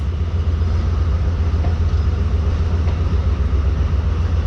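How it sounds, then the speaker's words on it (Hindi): The Pak Business Express pulls away from Khanewal Junction, a steady, loud, low rumble of rolling rail cars with a continuous wash of noise and no distinct clacks. "मेन प्लेटफॉर्म को खानेवाल जंक्शन की ट्रेन ने अलविदा कह दिया है और आगे बढ़ रही है"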